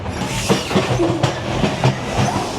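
A train in the Prague area rolls steadily along the rails, its wheels clicking rhythmically over the joints in a loud, continuous rumble.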